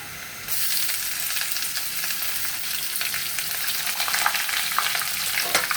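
Onion, cardamom pods and bay leaves fry in hot oil with a loud, steady sizzle that jumps up after a brief quieter start, with occasional stirring scrapes throughout and no voices.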